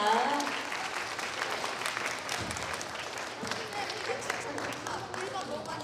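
Audience applause after a school team project presentation in a classroom: dense, steady clapping from many hands that holds for about six seconds with no talk over it.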